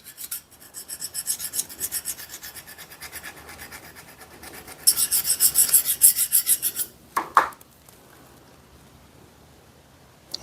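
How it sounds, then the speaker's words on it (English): Close, dry rasping as an old scraper is worked over gunk on an old Bell System screwdriver, with rhythmic strokes growing louder and harsher midway before a few scrapes and quiet. "Scrape all the gunk off of here."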